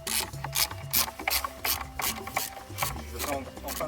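Ratchet wrench clicking in quick repeated bursts while a car's air conditioning compressor is being dismantled, close and fairly steady with metallic rubbing between strokes.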